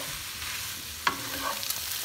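Meat with chili flakes stirred in a frying pan for homemade döner, a steady sizzle with a couple of sharp utensil scrapes, close and alone.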